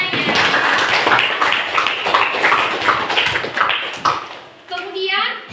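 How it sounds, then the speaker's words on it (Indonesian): Applause breaks out in a classroom, a crowd of pupils clapping in a steady patter that continues under a teacher's voice before a brief pause and renewed clapping. "tepuk tangan untuk Inanya."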